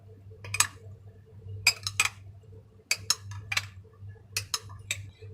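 Rice being stirred with green food colouring in a cooking pot, producing sparse clinks and scrapes of a spoon against the metal in small clusters over a low steady hum.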